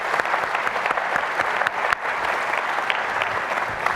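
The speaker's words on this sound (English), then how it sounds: "Give them a round of applause." A conference audience at a product management and DevOps talk applauds for several team members, a steady, dense wash of clapping from a sizable crowd that holds evenly through the moment.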